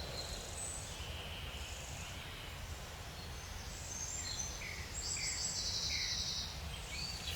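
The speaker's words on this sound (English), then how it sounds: "You can hear all the birds all chirping, getting ready for the day ahead" Distant birds chirp and tweet intermittently in the morning over a steady outdoor hum, faint and scattered, with no voices.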